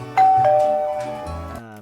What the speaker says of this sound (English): There's a doorbell sound effect that is, if I play it way too loud...